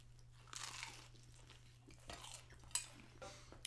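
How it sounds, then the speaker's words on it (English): Crunchy grilled cheese bread made with Muenster, dipped in fresh tomato soup and then bitten, giving a few crisp crunching bites with soft chewing between them over a low steady hum. "Nice crunch on the bread."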